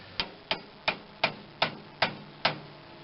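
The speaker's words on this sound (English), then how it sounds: "Heavier hammer needed." A hammer strikes the steering spindle of a 1986 John Deere 185 garden tractor, seven sharp metallic blows at a steady pace, close and clear with no talk.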